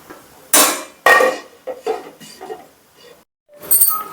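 Utensil stirring milk in a metal pan while cooking ridge gourd milk, several sharp scraping clinks and knocks in irregular bursts, close and fairly loud, with pauses between strokes.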